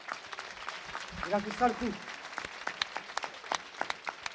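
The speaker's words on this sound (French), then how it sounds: "Vous pouvez l'applaudir s'il vous plaît" Applause from the crowd at a boxing gala honoring a fighter after his bout, a soft, distant patter of clapping in a hall while someone speaks over it in French.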